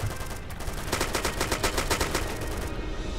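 Kalashnikov rifle with underslung grenade launcher firing in ArmA 2, a rapid burst of evenly spaced automatic shots over a constant noisy background.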